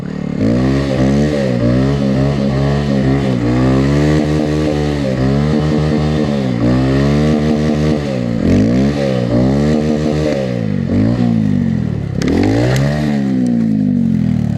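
A vehicle drifts on snow, its engine revving loudly and continuously with rising and falling pitch sweeps as the throttle is worked, close and steady throughout.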